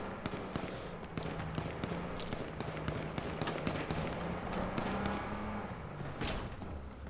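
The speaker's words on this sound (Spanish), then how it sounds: "Uy, hay un tiroteo por aquí fuera" Gunfight outside in the video game H1Z1, with a dense stream of sharp cracking shots popping steadily over a low rumble, some bursts nearer and louder than others.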